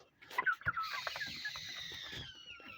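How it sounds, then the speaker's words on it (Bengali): Chickens in a poultry house squawk and cluck as one is being caught, a few sharp calls then a drawn-out high alarm cry with scuffling and flapping underneath. "অনেক দুষ্ট মুরগি এরা। এই যে আমি ধরতে চাচ্ছি কিন্তু ধরতে দিতেছে না।"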